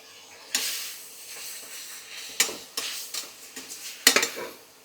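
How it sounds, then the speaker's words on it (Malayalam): A spoon scrapes and clinks against a pan as tomatoes are stirred for biryani, with a few sharp knocks spread over several seconds and quiet stretches in between. "ഒന്ന് ഇളക്കി കൊടുക്കാമേ തക്കാളിയൊക്കെ ഒന്ന് വാടട്ടെ"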